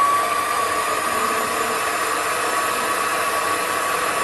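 Sumore SP2102 7x12 mini lathe running in low gear at about 1,000 RPM, a steady, loud, smooth whirring hum with a faint whine and no change in pitch or level throughout.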